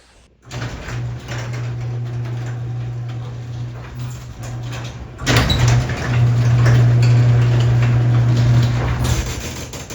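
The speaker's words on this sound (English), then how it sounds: "we have the garage door that's closing all the way now" Motorized garage door with a new bottom seal and cable protectors running shut, a steady low mechanical hum with a brief pause midway, then a louder continuous drone as it closes fully, close by.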